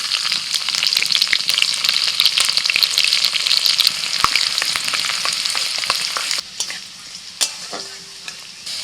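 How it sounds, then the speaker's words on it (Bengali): Whole cumin seeds and chopped garlic sizzle steadily in lightly heated white oil for a village-style matar palong, a dense continuous hiss with scattered pops and spoon scrapes, quieting slightly near the end. "তেলটা হালকা গরম হলে দিয়ে দিচ্ছি গোটা জিরে রসুন কুচি"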